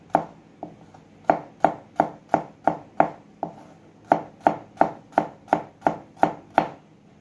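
A sharp kitchen knife chops vegetables on a cutting board: about seventeen crisp, close knocks in a steady, even rhythm after a couple of lighter taps, with no talking.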